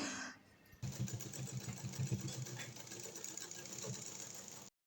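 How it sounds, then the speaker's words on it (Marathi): Sewing machine running a continuous top-stitch seam along a saree piece, a steady rapid whirring hum close by after a brief quiet start, no talking. "वरून एक दाब शिलाई मारून घ्यायची"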